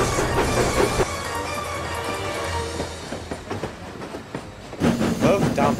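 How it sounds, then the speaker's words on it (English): A passenger train rolls along the rails with rhythmic clicking and rumbling, briefly dipping quieter before a louder burst of wheel noise returns. "Further down the line, Edward was pulling a passenger train"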